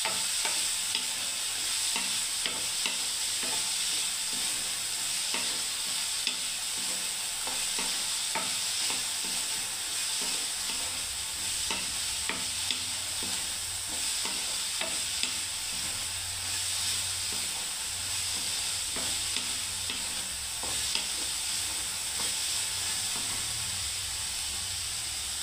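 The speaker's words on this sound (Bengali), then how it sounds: "এবার 5 মিনিট নেড়ে দিলেই বন্ধুরা হয়ে যাবে গ্রিন মুগ ফ্রাই" Green moong beans stirred and fried in a pan, a steady loud sizzle and hiss throughout with repeated scraping taps of a stirring spoon, no talking.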